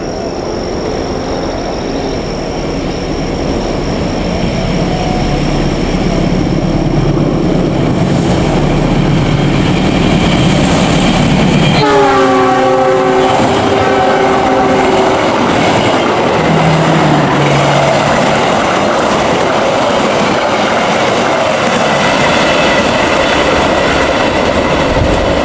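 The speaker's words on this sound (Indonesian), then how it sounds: "Ini adalah kereta api unik ya, yang terdiri dari 3 kelas yang masih bertahan sampai sekarang" The Malabar passenger train roars past Gedebage station loudly and close, its horn sounding a sustained chord partway through over the constant rumble of the passing cars.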